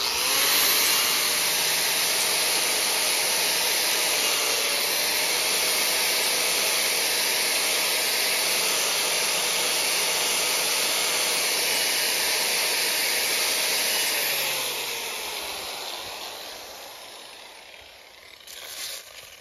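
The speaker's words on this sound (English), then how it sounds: "I put the wire brush on the grinder, and this is basically what you do." A wire brush on an angle grinder scrubbing rust from a pontoon boat trailer, a loud steady whirring roar that holds for about fourteen seconds, then tapers off as the grinder spins down.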